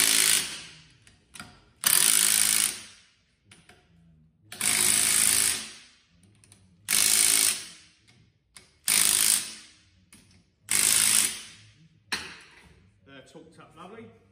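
Bursts of a power tool tightening big bolts on a Haas machine's gearbox and motor, about seven loud, evenly spaced runs of a second or so each, separated by short pauses with light handling noise.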